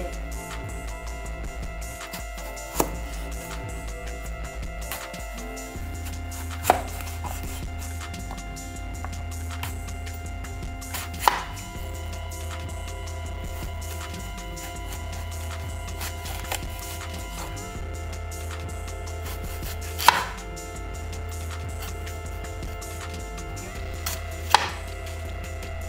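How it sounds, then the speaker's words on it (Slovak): Fruit being chopped with a knife on a cutting board while making a fruit sandwich, with a handful of sharp, isolated knife strikes spaced several seconds apart over a steady low background hum. "Krájaj to ovocie."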